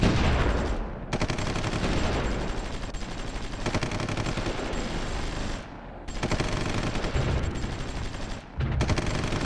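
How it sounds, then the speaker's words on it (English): Battle sounds from the Supreme Ruler Ultimate strategy game: continuous crackling gunfire and machine-gun bursts with thumping artillery, dense and steady with a few brief gaps, no talking. "Not to mention all the artillery going on."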